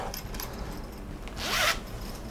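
A zipper on a bag is pulled shut in one quick, bright rasping stroke near the end, close by, after a stretch of quiet handling noise.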